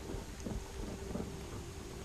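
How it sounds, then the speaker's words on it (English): Steady, heavier rain falls outdoors as a continuous hiss, with a low, gusty rumble underneath and no voices. "it's raining a little heavier now"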